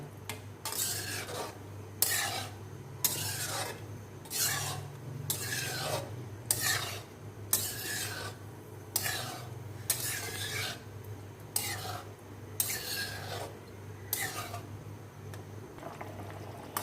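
A spoon stirs yogurt-based chicken malai in a pot, scraping in a steady rhythm of about a dozen close strokes over a low constant hum.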